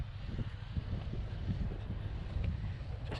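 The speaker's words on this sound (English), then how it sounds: "You can hear one of the boats, the fishing boats there starting up." A fishing boat engine starts up at a harbour near Mornington, roughly 50 kilometres from Melbourne, its low rumble steady and somewhat distant beneath wind buffeting the microphone.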